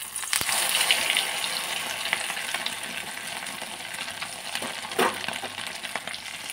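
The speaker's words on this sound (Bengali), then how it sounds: "এখানে আমি ডিমের অমলেট বানিয়ে নিচ্ছি" An egg omelette fries in a pan, giving a continuous moderate sizzle. A sharp knock sounds near the start and another scrape comes later.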